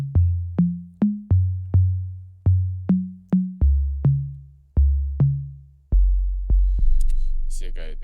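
Deep, booming dancehall bass drum hits programmed in FL Studio for a Zim dancehall riddim, about a dozen loud kicks in an uneven syncopated pattern, each with a long sustained low tail, sounding alone with a brief bright noise near the end.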